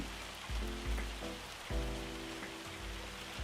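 Hail falling in the farming game Farming Simulator 25, a dense, steady patter that stays constant throughout, with low tonal hums and clunks from machinery layered underneath.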